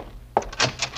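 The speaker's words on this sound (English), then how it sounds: "There's someone at our door." Someone at the door in an old radio detective drama: a sharp thump at the door followed by a short run of knocks and rattles, close and fairly loud, with a quiet room hum before it.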